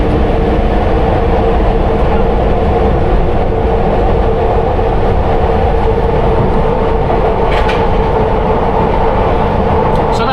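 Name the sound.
London Underground Piccadilly Line train running, heard from rear cab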